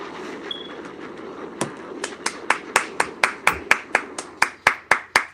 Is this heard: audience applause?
yes